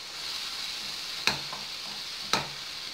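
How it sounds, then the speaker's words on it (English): A few curry leaves and green chilli sizzle in hot oil in a pan while making paneer masala: a soft, steady hiss broken by two sharp pops about a second apart. "I'm going to add in few curry leaves."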